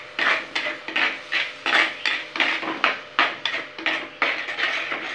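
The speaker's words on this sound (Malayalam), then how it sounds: "ഇതിലേക്ക് ഞാൻ ഇഞ്ചി വെളുത്തുള്ളി പേസ്റ്റാണ് ചേർത്ത് കൊടുക്കുന്നത്. അതും കൂടി ചേർത്തിട്ട് നന്നായി ഒന്ന് നമുക്ക് മിക്സ് ചെയ്യാം." A spoon scrapes and clatters around a pan as ginger garlic paste is stirred into onions for a Pathare mutton curry, with repeated rhythmic close scraping strokes and no talk.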